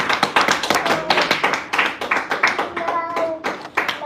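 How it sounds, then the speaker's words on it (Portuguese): Congregation in a church clapping their hands in a lively, fast rhythm, many sharp claps close and loud, with faint voices mixed in. "Várias palmas mais alegres ao Senhor."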